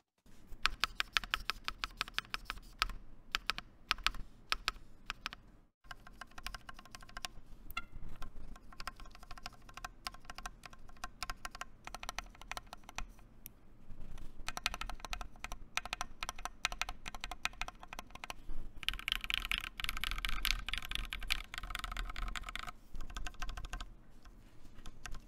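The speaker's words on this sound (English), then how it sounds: "So as you can tell, I mean, it's not a bad sounding keyboard stock." Steady typing on a modded mechanical keyboard fitted with Kinetic Labs Seal keycaps, a close, dense stream of clacky keystrokes with brief pauses and no talking.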